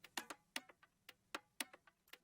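An EQ'd percussion loop sample with the bass thinned out plays alone, quiet and clicky, with a steady rhythm of bright ticking hits and softer accents between them.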